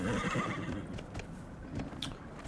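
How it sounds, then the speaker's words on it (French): A horse in Dragon Age: Inquisition lets out a loud, drawn-out whinny, followed by a few hoof clops and game sounds. "En mode YOLO avec le cheval, on va descendre hop, les falaises et tout."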